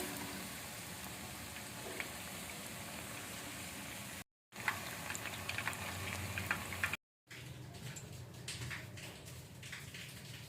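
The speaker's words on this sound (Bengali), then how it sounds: "সব ফুলকপিগুলোকে এইভাবে ফ্রাই করে নেব।" Cauliflower pieces frying in hot oil for a cauliflower Manchurian give a steady, soft crackling sizzle, briefly cut by two short silent gaps.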